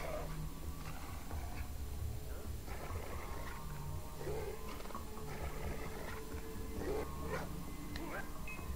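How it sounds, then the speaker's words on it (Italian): Dog in the Far Cry 4 video game, barking and whimpering in short scattered bursts over a constant rumbling game background, moderately close. "C'è il cane, cazzo."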